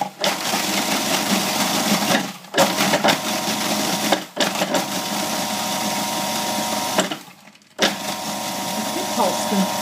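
A food processor pulses crumbs for fifteens, a loud whirring motor cutting in and out in several bursts separated by brief pauses, with people talking over it.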